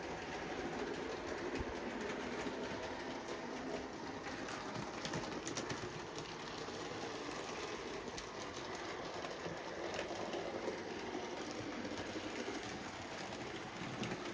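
A model steam train runs past on a layout, producing a quiet, steady rolling rumble with faint rhythmic clicking that carries evenly through the whole stretch, with no voices over it.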